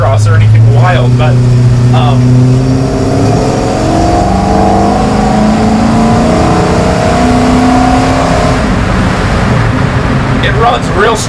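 An LS-swapped 1953 Chevy 3100 patina farm truck drives along, its engine droning loud and close with shifting pitch as it pulls, while someone talks over it.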